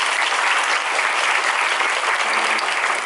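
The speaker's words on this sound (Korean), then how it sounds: "또 다른 캐스트 분들께 다시 한번 박수 부탁드릴게요" A theatre audience at a closing-night musical performance applauds the cast, a thick, even wash of clapping from a large crowd that holds steady throughout.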